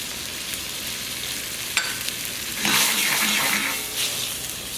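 Cream sherry poured into a hot pan gives a steady hiss that swells into louder bubbling sizzle partway through, then settles back to a strong constant fry.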